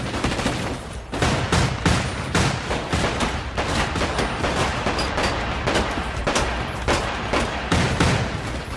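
A hotel shootout scene from the 2012 movie 21 Jump Street fills with sustained heavy gunfire, overlapping bursts and sharp individual shots firing loudly and almost without pause.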